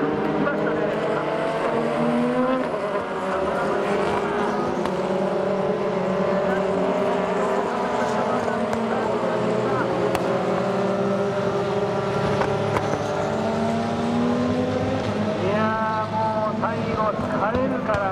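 Super GT and DTM race cars pass at Fuji Speedway's Coca-Cola Corner, overlapping engine whines rising and falling at a distance under continuous commentary.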